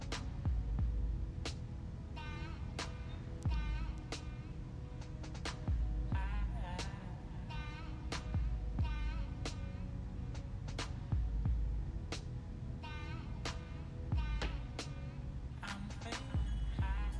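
An embroidery machine stitching a design on a garment at about 1,000 stitches a minute, a low continuous mechanical hum and throb with regular sharp clicking pulses repeating across the whole stretch, no talk.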